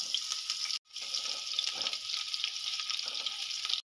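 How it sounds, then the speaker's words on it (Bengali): A small onion frying in mustard oil for crisp birista makes a loud, even hiss of sizzling that cuts out briefly once, then carries on steadily. "এখানে পেঁয়াজটা ভাজতে দিয়েছি"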